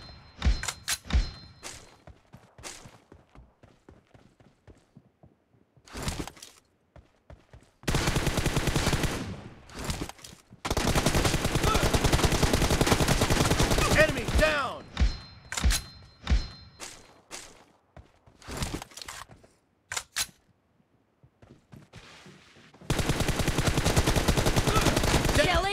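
Gunfire in a 1v1 PUBG match: bursts of automatic fire mixed with single sharp shots, some long sustained volleys and some quick isolated cracks, loud and close with short quiet gaps between.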